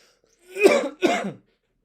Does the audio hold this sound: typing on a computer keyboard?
no